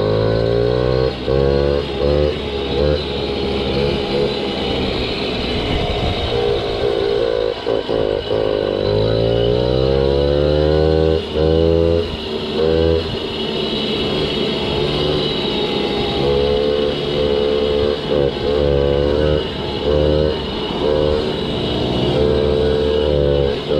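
A small moped engine runs on the road during a rough trip, droning loud and close throughout while its revs rise and fall repeatedly.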